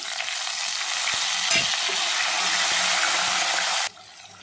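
Tomatoes dropped into hot oil for a mutton biryani masala hiss in a loud, dense, continuous sizzle close by, with a few light scrapes, until the sound suddenly cuts down to a quiet hum near the end.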